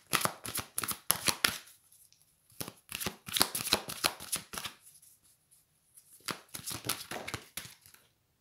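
Oracle cards are shuffled by hand for a reading in quick riffling bursts, three separate rounds of close, crisp shuffling with short pauses between, no talking.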